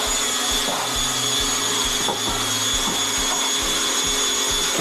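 Bonding undercoat plaster churns in a bucket under a power mixing paddle, giving a steady close whirring drone with rhythmic low thumps roughly every few tenths of a second.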